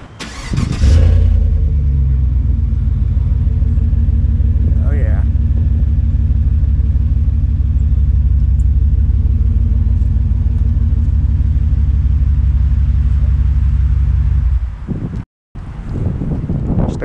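A pickup truck fitted with Flowmaster exhaust and a 3000 stall converter starts up, then holds a loud, deep, throbbing idle rumble close to the microphone for about fourteen seconds before a brief cutout.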